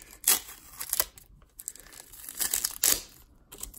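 Packing tape being peeled off a card package and crumpled into a pile, heard as a few close, crinkly tearing rips separated by short pauses, with no talking over them.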